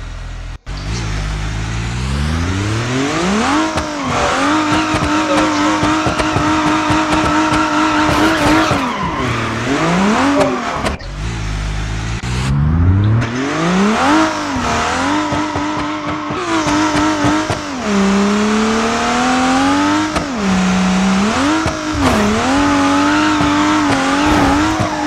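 An Ibishu Diadem set up as a drift car in BeamNG Drive swings right and left, its engine revving and tires squealing continuously with rising and falling pitch through repeated slides, loud and close, with no talking.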